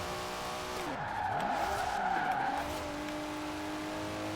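Nissan Skyline GT-R R34 V Spec II (2002) in Forza Horizon 4 gameplay, tires squealing in a long skid with sweeping engine pitch changes, steady and fairly close.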